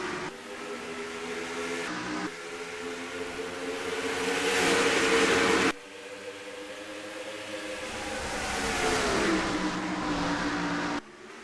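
Race cars lap Dover in the NR2003 racing video game, engines rising in pitch as they accelerate, two long sweeping passes with abrupt cuts, moderately loud and steady with no voices.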